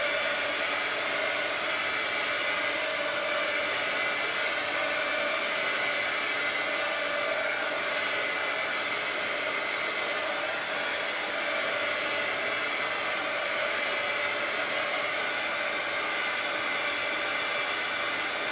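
A hair dryer blows steadily to dry a wet art journal page, a continuous airy whoosh with a constant motor whine, unbroken and fairly close for the whole stretch, with no talking.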